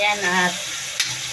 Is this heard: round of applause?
no